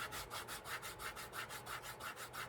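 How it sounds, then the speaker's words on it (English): Steady back-and-forth rubbing of 220-grit sandpaper on the edge of a leather bifold wallet, about a dozen even, soft strokes in a regular rhythm, close and quiet. "Give it a little 220 sand here."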